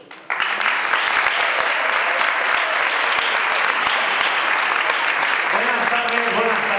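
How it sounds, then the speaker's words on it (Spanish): An audience at a circus show breaks into loud, dense clapping after a brief quiet start, holding steady and close with a few whoops and voices rising near the end. "fuerte el aplauso"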